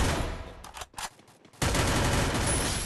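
Rapid bursts of MP5 submachine gun fire ring out in a shooting video game, a loud dense volley, a brief gap with a few scattered shots, then sustained automatic fire.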